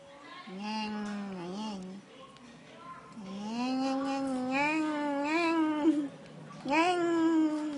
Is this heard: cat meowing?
yes